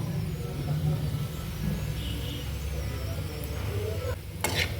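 Spice powders are stirred into soft cooked sweet potato slices in a pan over a steady background hum and sizzle, with a faint scraping from the mixing and a sharper clatter near the end.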